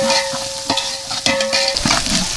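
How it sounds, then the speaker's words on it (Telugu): Ginger paste sizzles in a hot pan while a utensil scrapes and clinks through it in quick, irregular stirring strokes, loud and close, cooked outdoors for a village food donation meal. "అల్లం పేస్ట్ వేసుకోవాలి, కలబెట్టుకోవాలి మాడిపోకుండా."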